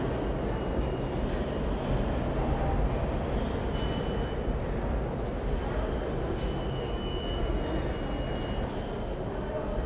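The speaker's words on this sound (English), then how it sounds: "This is the 14th Street subway" A subway train rumbles steadily through the 14th Street subway station, a loud continuous low roar with rattling and faint high squeals across the whole stretch.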